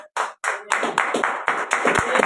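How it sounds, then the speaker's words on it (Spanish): Congregation clapping during a church sermon, a few separate claps that quickly build into close, loud, rhythmic group clapping. "Yo le daría un aplauso grande al Señor."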